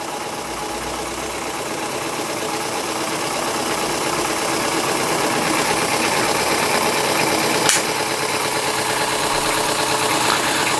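A scratch-built overtype model steam engine, gas-fired, runs alone at a fast, even, close chuffing and mechanical clatter that holds steady throughout.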